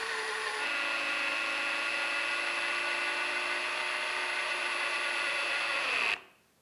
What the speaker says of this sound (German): Das ist jetzt die erste davon, die 4 auf 45er Schraube. Die schrauben wir hier rein.